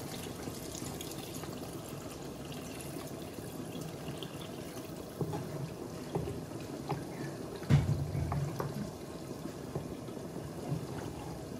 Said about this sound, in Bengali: তারপর চিকেনের মধ্যে আমি ঝোল দিলাম।